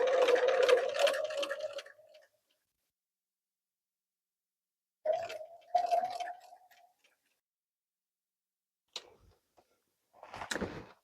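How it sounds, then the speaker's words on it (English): A sewing machine stitching an appliqué onto fabric runs in short bursts of fast mechanical whirring, separated by long silent pauses, with a few quieter clicks near the end. "it makes it so easy just to applique and do sewing on the outside of"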